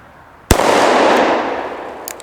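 A single sharp handgun shot fired outdoors at a 2-liter bottle target, a loud crack followed by a long rolling echo that fades over about two seconds.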